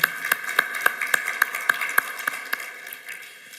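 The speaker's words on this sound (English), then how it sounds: "Big applause" At a tech conference session, sparse, evenly spaced claps ring out in a steady rhythm over a faint tonal hum, thinning and fading within a few seconds.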